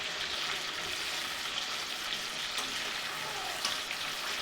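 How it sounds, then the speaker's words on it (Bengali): Chicken pieces for chicken Afghani frying in a pan over high flame, giving a steady, close hiss and sizzle with faint stirring clicks, no voices. "মিডিয়াম টু হাই ফ্লেমে ভাজার চেষ্টা করবেন বা হাই ফ্লেমে ভাজবেন"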